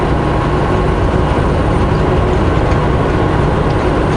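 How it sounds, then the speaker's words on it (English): A long freight train pulled by two locomotives rolls past at a mountain highway crossing, a steady heavy low rumble and rail roar, loud and continuous throughout without talk. "Looks like it's a pretty long train too."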